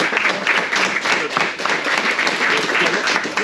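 A crowd applauds steadily at the 2022 KCR Karting SWS final, dense clapping filling the whole stretch at a fairly loud, even level with no voices on top.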